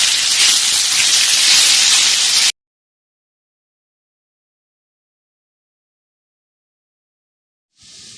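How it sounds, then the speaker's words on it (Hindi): A tablespoon of garlic paste sautés in a hot pan with potatoes, producing a loud, dense sizzle that runs for a couple of seconds, then cuts off into silence before the hiss briefly returns. "अब हमें 1 टेबलस्पून लहसुन का पेस्ट डालेंगे और इसको सौते करेंगे थोड़ी देर।"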